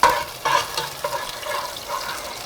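Green onions sautéing in oil in a pan: a close, continuous sizzle with brief stirring scrapes, fairly loud and without talk.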